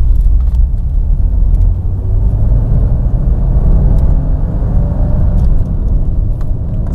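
A car engine drones low and steady with a faint rising whine as it picks up speed, muffled inside the cabin.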